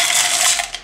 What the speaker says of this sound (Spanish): Añadimos el hielo.